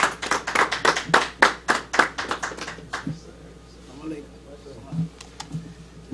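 An audience at a temple meeting claps for a minister in a short, sharp burst of distinct hand claps that fades after about three seconds, followed by quiet with faint voices.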